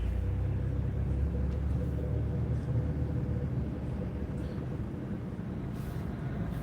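A semi-truck passes on the highway with a heavy low rumble that swells and then slowly fades, heard from inside a moving car over steady road noise.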